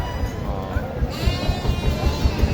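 Goats bleat at the busy Mataji livestock market, several nasal cries rising over crowd noise and nearby talking.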